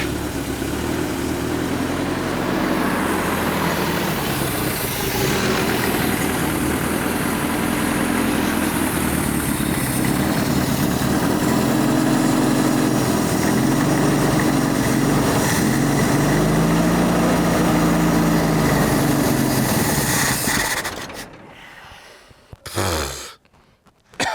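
An old car engine pulled from a junkyard after twenty years fires up and settles into a loud, steady running rumble close by for about twenty seconds, then cuts off abruptly with a few brief bumps.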